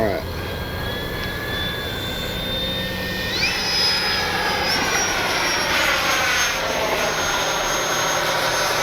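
FMS 70mm Yak 130 RC jet in flight on its maiden morning outing, a steady loud electric ducted-fan whine with rising and shifting pitch as the throttle changes, wind rumble underneath throughout.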